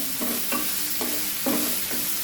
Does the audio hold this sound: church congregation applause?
no